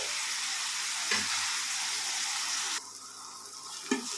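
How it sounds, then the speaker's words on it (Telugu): Fresh coriander frying in a pan for a coriander tomato chutney, giving a continuous close sizzle with a few stirring knocks; the hiss drops partway through and then continues more quietly, with no talking. "చూడండి ఇలా చక్కగా ఫ్రై చేసుకోవాలి"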